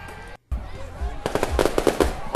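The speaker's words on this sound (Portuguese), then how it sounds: "Fogos de artifício." Fireworks sound effect: after a brief dropout, a rapid string of loud crackling pops and bangs builds up, bursting close and densely over a faint background hiss.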